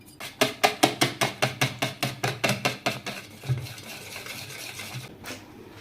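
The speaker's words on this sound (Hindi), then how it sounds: "तो ये मैंने मसाले भी सारे इसी में मिक्स कर दिए हैं" A utensil is stirred briskly through gram flour batter with spices mixed in, about fourteen quick, evenly spaced scraping strokes against the bowl, then softer irregular mixing sounds.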